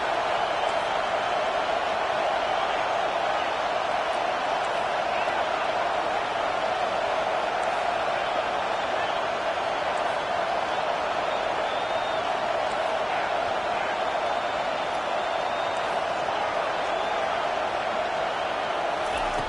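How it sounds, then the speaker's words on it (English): Football stadium crowd at a college game roaring steadily throughout a tense fourth-down defensive stand, a dense continuous wall of cheering with scattered whistles and whoops. "this crowd is coming to help the defense"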